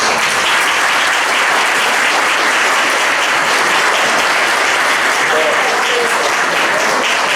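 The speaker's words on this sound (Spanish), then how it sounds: "Y un aplauso para Nico." Audience applause for Nico at the close of his talk on paleoclimate: steady, dense clapping from a room full of people, loud and sustained throughout without a break.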